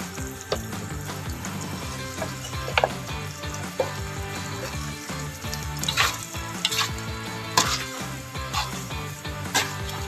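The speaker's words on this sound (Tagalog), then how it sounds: "Marami ako maglagay ng spaghetti sauce." Del Monte spaghetti sauce going into a hot pan, with a continuous sizzle and bubbling broken by scattered spoon clinks and stirring, over a steady tonal background.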